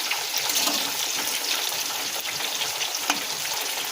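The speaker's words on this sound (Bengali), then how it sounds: "এক পিঠ ভাজা হয়ে গেছে এবার আমরা উল্টে দিচ্ছি আর এক পিট ভালো করে ভেজে নেব" Potato pieces fry in hot oil in a pan as they are turned over, giving a loud, dense, continuous sizzle close up with faint scraping under it.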